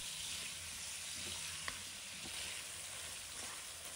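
Scallions and garlic stir-frying in hot oil in a wok, a steady quiet sizzle with a few faint clinks of a spatula.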